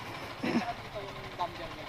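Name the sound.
Raider 150 FI motorcycle engine idling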